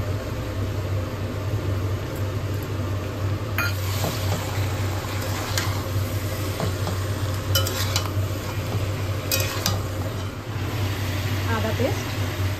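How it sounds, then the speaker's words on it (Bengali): Chicken frying with spices in a kadai, with onions already fried golden, makes a steady, close sizzle. Occasional scrapes and clinks of stirring sound through a constant low hum across the whole stretch. "চিকেনটা দিয়ে দিয়েছি কড়াইতে"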